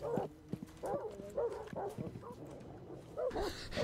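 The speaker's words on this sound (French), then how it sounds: "Il a fait aboyer les chiens, là." Dogs bark in a series of sharp, fairly close yaps and woofs, spaced irregularly over several seconds, with a few overlapping barks and softer whimpers between, amid quiet background noise.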